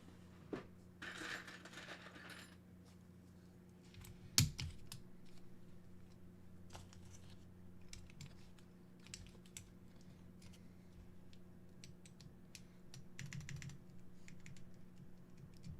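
Keycaps being pressed onto a Rama Works Kara mechanical keyboard during a build, heard as scattered soft plastic clicks and taps, one sharper snap near the middle, all faint against a low steady room hum.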